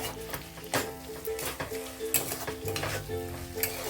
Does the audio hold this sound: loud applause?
no